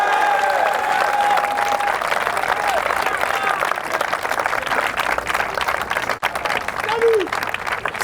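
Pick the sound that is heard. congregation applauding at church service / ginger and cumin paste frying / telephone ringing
congregation applauding at church service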